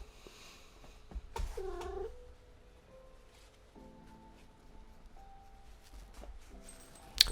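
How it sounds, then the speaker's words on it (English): A pet cat gives a short harmonic meow near the two-second mark, followed by softer tonal calls and light rustling in an otherwise quiet room. "My cat would like to say hello."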